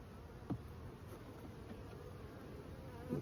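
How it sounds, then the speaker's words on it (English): A soft, continuous buzz of many honey bees on an opened hive lid and honey frame hums at low volume, steady throughout, with a couple of faint bumps. "Bunch of bees on the underside of that lid."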